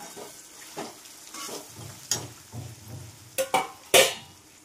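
Eggplant pieces fry in oil in a pan as dry masala is added and stirred, producing soft sizzling with intermittent scraping stir strokes and sharper clanks of the spoon near the end.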